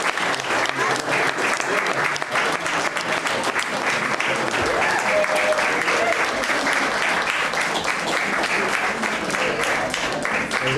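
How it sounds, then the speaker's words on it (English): Wedding guests applauding as the couple leaves: dense, sustained clapping from a sizable crowd, loud and continuous throughout, with some voices mixed in. "give them a round of applause as they leave"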